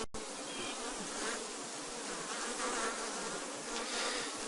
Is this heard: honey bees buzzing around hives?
yes